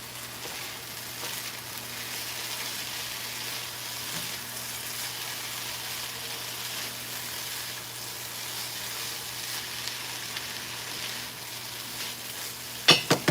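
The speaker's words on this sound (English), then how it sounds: "Let me gotta stir these potatoes real quick" Potatoes frying in a pan give a steady, soft sizzle that runs unbroken, with faint scrapes of a spoon stirring and a few clinks at the very end.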